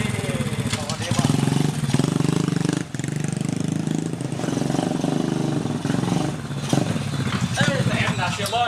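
A blue motorcycle engine runs steadily at a medium pitch nearby, holding a continuous idle-like drone while people talk over it.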